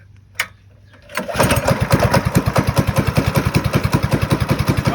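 A Predator small engine turned down to low throttle starts after a brief quiet moment and a click, then runs with a steady, close, evenly pulsing thump.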